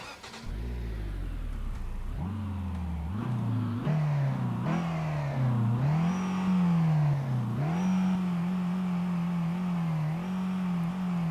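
A truck engine in the video game Euro Truck Simulator 2 starts, then revs repeatedly, rising and falling in pitch through several throttle blips before settling into a steady higher drone, clear and close.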